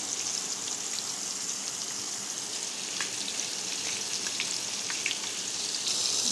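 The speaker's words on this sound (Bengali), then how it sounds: "দ্বিতীয় ভাজা চলতেছে।" Magur catfish fries in hot oil in a pan, a steady dense sizzle and crackle with scattered pops, continuous and fairly close with no voices.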